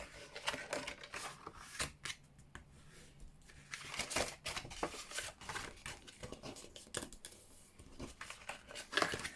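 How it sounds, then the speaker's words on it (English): Paper score lines on a handmade flower treat box being folded and burnished with a bone folder: soft close scraping, rubbing and crinkling strokes in a steady irregular rhythm, with light taps between passes. "I'm going to get my bone folder, and I'm just going to fold and burnish all of my score lines"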